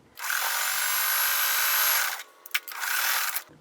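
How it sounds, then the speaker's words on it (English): Quilt fabric strips running through a sewing machine, a steady whirring motor burst of about two seconds, a brief pause, then a second shorter run, close and loud with no talking. "So I'm just going to sew these two together."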